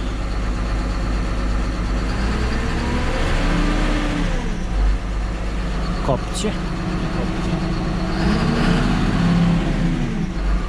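A John Deere 6820 tractor's diesel engine rumbles steadily and is revved up, its pitch rising and falling, while someone talks over it.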